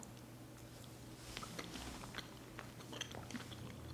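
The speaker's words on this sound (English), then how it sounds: "I'm chewing very softly, so I don't break into them." Soft, close chewing of seedy araca fruit, faint moist crunches and small squishes scattered irregularly over a few seconds, quiet and without talk.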